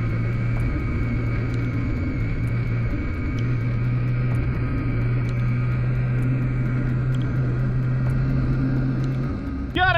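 Bajaj Dominar motorcycles ride a foggy gravel road in a steady, loud engine drone with a constant low hum, continuous for the whole stretch, with a brief shift at the very end.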